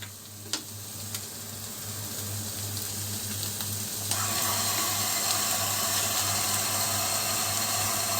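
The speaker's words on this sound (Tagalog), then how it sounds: "At lagyan lang ng konting tubig." Water pours into a turnip dish cooking in a pan, a steady sizzling and running-water wash that swells louder halfway through and continues alone without talk.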